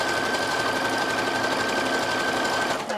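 A sewing machine stitches picot elastic onto lingerie, a loud, continuous, even mechanical whirr with a faint steady whine that runs throughout, with no talking.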